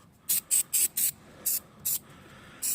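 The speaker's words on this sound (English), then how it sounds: "So here's our white lithium grease. Just spray a little bit in there." White lithium grease sprayed from an aerosol can onto a rear window hinge, in seven short hissing bursts, six evenly spaced and a final one after a pause, close and alone.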